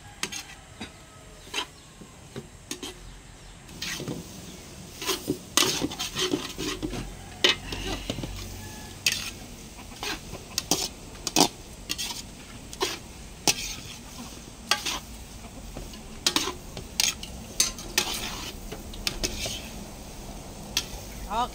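Pancit with pechay is being stirred in a pan, with a faint sizzle underneath and repeated sharp scrapes and clacks of the utensil against the pan, sometimes close together and sometimes spaced out.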